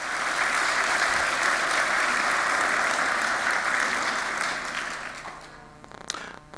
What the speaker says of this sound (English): Round of applause for the former Prime Minister.